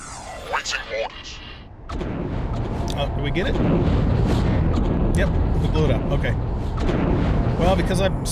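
Explosions booming in the space simulation game X4 Foundations, a dense rumbling barrage of blasts that starts suddenly and continues loudly, following a few brief electronic game sounds.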